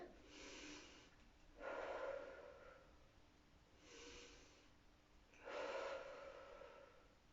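Slow, deep breathing during a relaxation exercise, with two full cycles of soft inhales and stronger exhales in a steady, unhurried rhythm, close and quiet.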